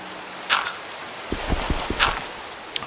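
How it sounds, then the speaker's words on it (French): Rain falls at night in the Minecraft video game, a soft steady hiss with scattered drops and a few low thumps, heard alone at moderate volume. "on peut entendre le bruit de la pluie"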